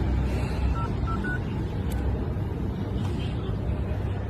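A borrowed mobile phone beeps as a number is keyed in, several short distinct tones over a loud steady rumble of traffic and engine noise.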